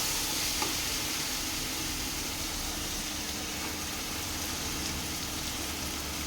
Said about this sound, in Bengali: আমি এর মধ্যে খাসির চর্বিগুলো দিয়ে দেবো।